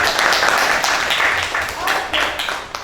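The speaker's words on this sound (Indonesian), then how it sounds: "kita tepuk tangan buat Nabila" Classroom applause for a student named Nabila, a short burst of clapping from a group of learners that stays loud and fairly steady for a few seconds.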